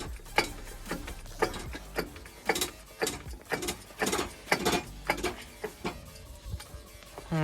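A hydraulic scissor car ramp is worked by its foot pump, giving a steady run of close mechanical clunks and ratcheting clicks roughly twice a second with no talking.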